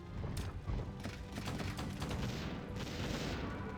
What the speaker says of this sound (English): It's a lot of mortars though, right?